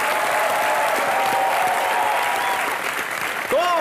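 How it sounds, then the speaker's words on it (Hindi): Loud, sustained applause from a large television comedy show studio audience filling the whole stretch, with a few cheers and whistles rising near the end. "जोरदार तालियां करीना और इमरान के लिए"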